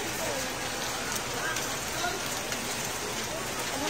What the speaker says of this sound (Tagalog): ay umuulan